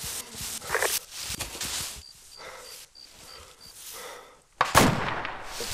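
Enemy gunfire in an Arma 2 multiplayer battle: scattered shots crack at a distance, a run of faint rhythmic beeps in the middle, then a louder close burst near the end.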